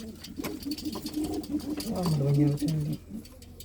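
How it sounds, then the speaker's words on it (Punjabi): Domestic pigeons kept by a fancier near Anandpur Sahib coo in soft, repeated low calls, close by, with faint rustling and a voice talking over them. "ਬਹੁਤ ਸੋਹਣੇ ਸੋਹਣੇ ਕਬੂਤਰ"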